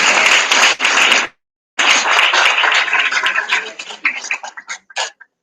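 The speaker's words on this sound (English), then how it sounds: "This applause is for you." Audience applause at a student congress general assembly, a burst of clapping that breaks off briefly, then resumes and thins into scattered claps.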